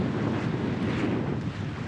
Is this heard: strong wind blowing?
yes